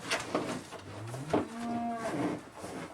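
A dairy cow moos nearby during milking, a drawn-out low call that rises and wavers, with a few soft thumps and background farm noise around it.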